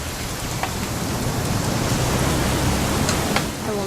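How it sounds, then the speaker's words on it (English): Steady rain pours down in the video game What Remains of Edith Finch, a continuous hiss of drops on surfaces with no voices over it. "It's gonna rain the whole weekend, isn't it?"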